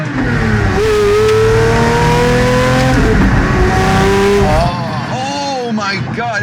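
A loud sports car engine revs hard and accelerates close by, its pitch climbing and dropping through gear changes, with a voice briefly underneath.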